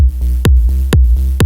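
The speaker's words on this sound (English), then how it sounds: "What I like to make is just add a little bit of white noise and distort both white noise and sub together." Distorted sub bass blended with white noise, production sound pulsing in a steady rhythm with three loud hits, a constant low rumble and a hissy noise layer, with no voice.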